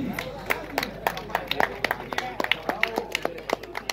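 An audience claps to welcome a bhangra performer onstage at a celebrity event, a fairly sparse run of distinct, separate claps in an irregular rhythm, heard close and moderately loud.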